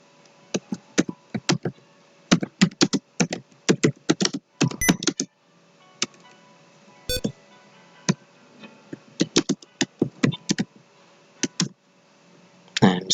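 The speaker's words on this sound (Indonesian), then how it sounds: "kita ketikkan." Rapid bursts of keystrokes on a computer keyboard while quiz questions are typed into a template, with short pauses between clusters of close, crisp clicks and no talking.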